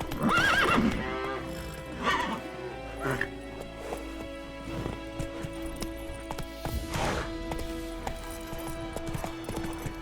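Roach, a horse in The Witcher 3, trots with rhythmic hoof clip-clops and whinnies up close, mixed with game ambience and harness jingles, while a voice speaks over the opening.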